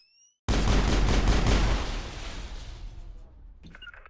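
Pistol gunfire in the video game Mass Effect 1 erupts suddenly as a loud, dense burst of rapid shots, then fades into a rumbling tail, with a faint electronic tone near the end.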